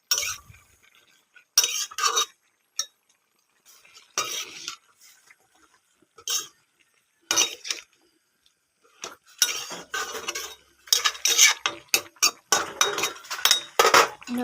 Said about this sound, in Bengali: বন্ধুরা ঢাকনাটা উঠিয়ে নিলাম, একটুখানি নাড়িয়ে নেব।